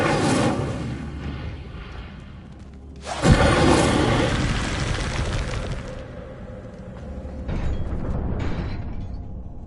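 Incendio, a fire spell, is cast in Hogwarts Legacy, with a sudden whooshing flare partway through that roars loudly for a couple of seconds and fades, set against a continuous rumbling, mechanical game backdrop.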